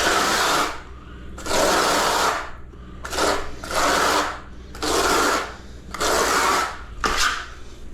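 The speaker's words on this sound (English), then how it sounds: "I'm only putting or doing my trowel that way because it's easier to spread it" Steel trowel spreading tile adhesive while tiling a bathroom floor, heard as repeated scraping sweeps in a steady rhythm, each lasting about a second, close and fairly loud with no talk.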